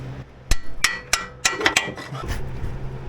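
A hammer striking a rivet during an exhaust manifold repair, about eight sharp metallic blows in an uneven rhythm, close and loud with no talk.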